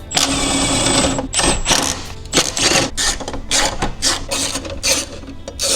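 Rapid ratchet clicking while tightening bolts on the air box of a Subaru WRX STI, a dense run of close, loud metallic ticks in quick bursts over steady workshop noise.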